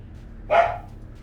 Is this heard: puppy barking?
yes